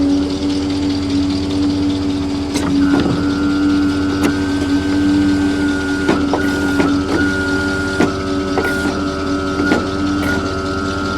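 A Telelect bucket truck's motor runs close and loud with a steady tonal drone, then climbs in pitch and holds higher with brief clicks and knocks over the top, no voices present.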